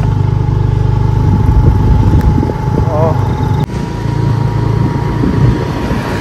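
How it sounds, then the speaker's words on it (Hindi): Two-wheeler motorcycle ridden on a road at night, a steady low engine drone with wind noise throughout, under a voice talking. "और टू व्हीलर की राइड हम एंजॉय करते हुए।"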